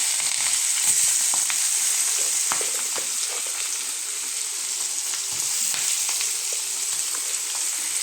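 Green chili and onion frying in hot oil for egg rice, a steady close sizzle with crackling pops and a few soft stirring scrapes throughout, no talking.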